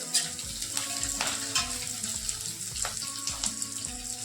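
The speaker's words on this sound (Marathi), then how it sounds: "आपण हे मोठ्या गॅसवर परतून घेणार आहे" Capsicum and onion sizzle as they are sautéed over a high gas flame for restaurant-style chilli paneer, with a steady close frying hiss and repeated scraping stirs in a regular rhythm.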